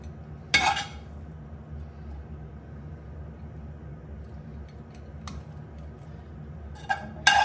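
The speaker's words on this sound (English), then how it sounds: "Spoon some of your nice leek and smoked haddock into it." A spoon scooping leek and smoked haddock into a small metal cookie cutter in a kitchen, giving a few sharp, isolated clinks spaced apart over quiet background hum.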